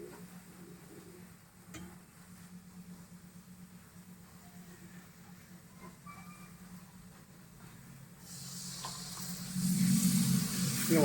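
Tamarind juice poured into a pan of fish curry with masala and a little oil, a low steady simmer that swells into loud close sizzling near the end.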